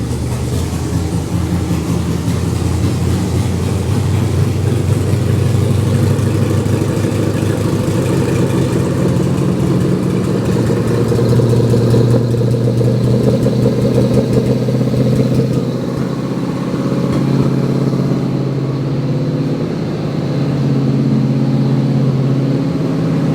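A carbureted L8T 6.6-liter Gen 5 LT V8 idles steadily at a slightly high speed, a loud, close, continuous rumble with a faint ripple and no voices over it.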